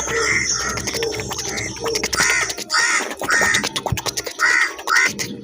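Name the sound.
crow call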